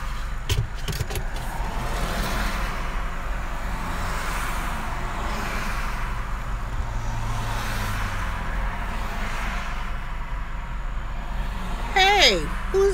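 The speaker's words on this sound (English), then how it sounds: "it's a city here in traffic." Steady city traffic rumbles and hisses as cars pass close by, a continuous broadband wash of road noise with a brief higher whine near the end, under occasional talk.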